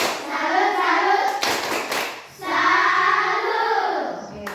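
A classroom of children clapping a salute rhythm together in two bursts of patterned claps, mixed with chanting voices, close and loud.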